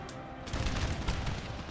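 Massed musket volley from line infantry in Napoleon: Total War, a rolling crackle of many shots merging into a dense, booming burst that swells and lingers, heard alone at moderate distance.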